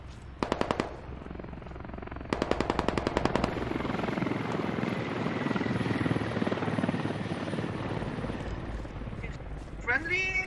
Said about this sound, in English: Get in that helicopter.